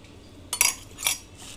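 A spoon clinks twice against a metal pot while chili garlic paste is stirred into a raw banana kofta curry mixture, two bright scraping knocks about half a second apart, close and alone.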